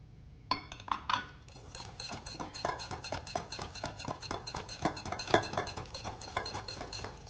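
Egg being mixed into cake batter in a bowl: steady rapid clinks and scrapes of a utensil against the bowl, close and continuous, with no talking.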